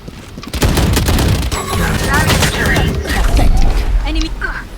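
Gunfire in the tactical shooter Valorant: a burst of sharp shots opens the stretch, followed by game effects and more firing under excited talk from a player.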